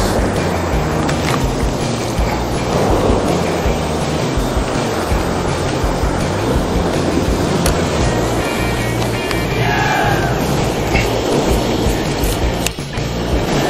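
Waves wash onto a rocky shore at Snapper Point, Kioloa, New South Wales, a loud, dense, continuous rushing surge filling the whole stretch without talk.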